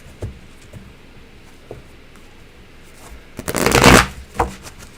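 Tarot cards being shuffled: a few soft riffles early on, then a louder, dense shuffling burst near the end, followed by one more brief flick. No one speaks.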